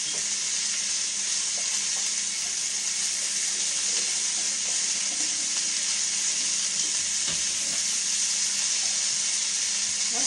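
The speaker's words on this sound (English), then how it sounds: "let me rinse the hands off real quick" Tap water running steadily while hands are rinsed, a continuous bright hiss close by and constant in level, with no talking.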